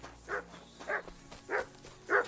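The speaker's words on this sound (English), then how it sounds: "Oh, dog's back." A dog in the video game Kingdom Come: Deliverance II gives four evenly spaced, soft mid-range barks or woofs, each short and moderately faint against a quiet background.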